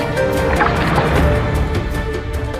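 A camel gulps down a 20-litre ration of water in seconds, giving steady, continuous liquid slurping and gurgling that sits close and fairly loud throughout, with no voices.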